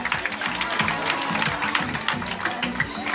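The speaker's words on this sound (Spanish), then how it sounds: "Fuerte el aplauso para él." An audience claps for a third-place trophy winner at a charity event, steady applause of many hands with a voice speaking over it.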